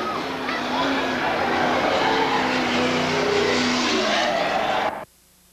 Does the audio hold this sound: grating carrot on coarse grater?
no